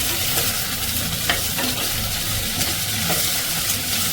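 Onions frying and being stirred in a clay pot for a spicy mackerel curry, a steady close sizzle with occasional scraping and stirring sounds.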